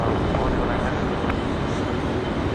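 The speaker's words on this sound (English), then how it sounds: "Lufthansa taxiing out like some Southwest here." A Lufthansa heavy airliner taxis at Raleigh-Durham airport, its engines a steady, loud, broad roar that stays constant throughout, with a voice faintly present underneath.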